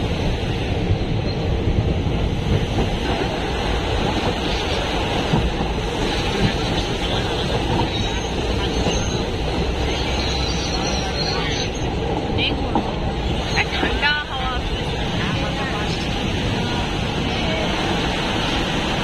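A train crossing the Farakka bridge over the Ganges, a loud continuous rumble and clatter of wheels on rails filling the whole stretch, with people talking over it.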